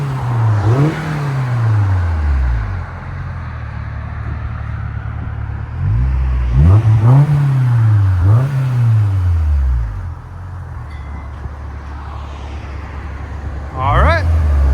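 A 2000 Honda S2000 with a 2.0L engine and an exhaust fitted with Vibrant resonators revs in several sharp bursts, rising and falling in pitch over a steady idle, loud and close, with voices talking in between.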